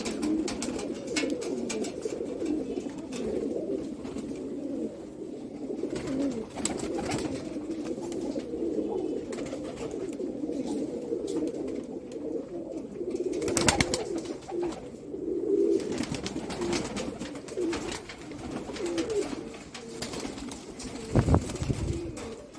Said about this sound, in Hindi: ये नायाब कबूतर का शौक है।